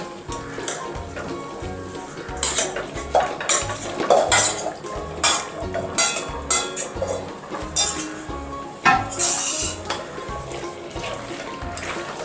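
Chicken pieces going into a pot for chicken biryani and being stirred, heard as clinking metal utensil and pot knocks with scraping, fairly close and steady over a light background hiss, with no talk.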